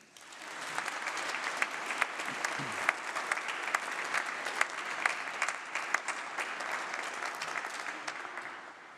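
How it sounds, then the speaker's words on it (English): Graduation ceremony audience applauding supporters, sustained clapping from a large hall crowd with sharp individual claps standing out, steady throughout and fading slightly at the end. "let's give a big round of applause, please, to say thank you to all the supporters"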